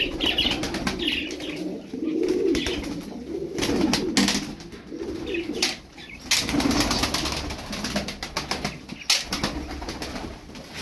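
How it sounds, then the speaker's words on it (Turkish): A tumbler pigeon coos repeatedly among other birds, with bursts of wing flapping and chirps. The sounds are close and fairly loud, set against a busy aviary background with no speech. "Takla atıyormuş o kuş."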